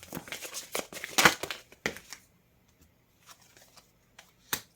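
Tarot cards drawn from a deck and flipped over, brisk papery shuffling and snapping near the start, then quiet with a few soft card slides and one sharp flick at the end.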